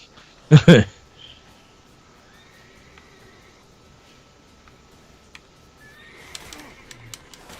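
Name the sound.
horse neighing, Roach in The Witcher 3 video game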